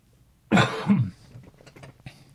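A man coughs twice, hard and close together, turned away from the microphone, followed by quieter throat noises and breathing.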